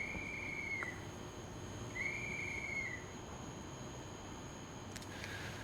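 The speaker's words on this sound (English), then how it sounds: "That was his whistle." Two drawn-out whistle blasts from an Alstom TRAXX 2 E186 electric locomotive in the SimRail train simulator game, near Warszawa Zachodnia, sounding fairly faint over a steady low rumble, the second following about a second after the first ends.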